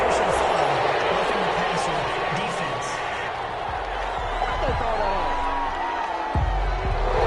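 Crowd in a football video game reacts to a roughing-the-passer penalty flag, a sustained loud murmur and jeering swell with commentary voices running over it throughout.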